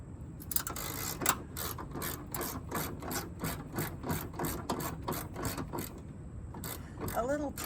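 A ratchet loosens a 1/2 inch bolt at the battery of a 2018 Chevy Silverado, making a rapid run of close, rhythmic clicks that carry on steadily throughout.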